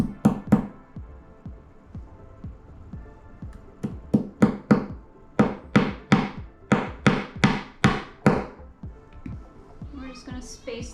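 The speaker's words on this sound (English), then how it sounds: "Putting a little tack in. Try desperately not to hammer my fingers." Upholstery tacks are hammered into the back of a desk chair during reupholstering, heard as close, sharp knocks in uneven clusters of quick taps, with a short pause near the start and a softer shuffle at the end.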